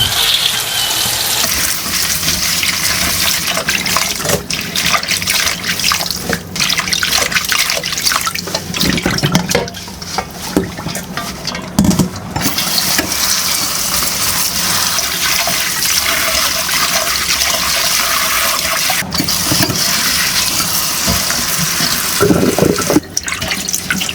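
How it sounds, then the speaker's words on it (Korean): Bangpung wild greens washed by hand in running water in a sink, a continuous loud splashing and gushing of tap water with brief sloshes and rustles of wet leaves. "나물 한 두세 번 정도 깨끗하게 씻어주세요."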